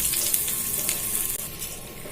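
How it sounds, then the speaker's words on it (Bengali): Asafoetida dropped into hot oil for tempering a Bengali tomato-potato curry, giving a steady, close hiss of sizzling frying throughout with no talk. "এবার হিং ফোড়ন দেওয়া হচ্ছে"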